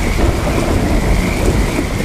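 Rainy-season rain pours steadily in a dense, even wash with a low rumbling undertone throughout, loud and close, with no voices.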